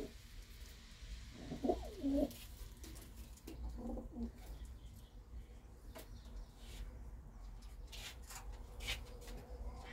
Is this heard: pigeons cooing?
yes